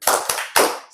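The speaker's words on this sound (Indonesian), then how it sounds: "1, 2, 3. Tepuk semangat." A group performs a spirit clap in three sharp, loud claps with a short gap before the last one.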